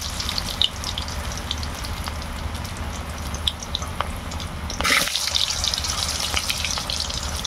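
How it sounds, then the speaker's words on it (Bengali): Potatoes frying in very hot oil in a pan for a Bengali village labra dish, giving a steady sizzling hiss with scattered crackles and pops, growing louder and brighter about two-thirds through. "আমরা আলুগুলো ভেজে নিচ্ছি।"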